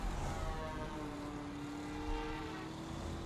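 A hijacked news helicopter in Driver: San Francisco drones with a steady, loud rotor and engine roar and a slowly shifting whine, alone with no talk.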